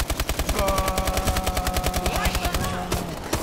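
Rapid machine gun fire in the Call of Duty: Advanced Warfare video game, a loud, fast, even stream of shots that rattles on without a break.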